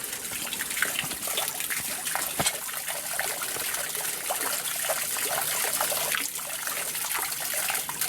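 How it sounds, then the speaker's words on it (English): A voluminous stream flows steadily near a village spot where people come to collect water, with continuous close trickling and splashing and no voices. "this is the second most voluminous stream here"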